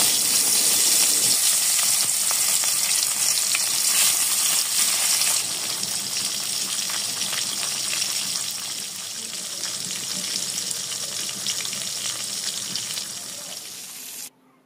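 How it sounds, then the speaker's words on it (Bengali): Tilapia frying in oil in a wok over low heat, a dense continuous sizzle, loud at first and easing slightly later, cutting off abruptly at the end, no talk. "তেলের মধ্যে মাছগুলোকে অল্প আঁচে ভেজে নেব।"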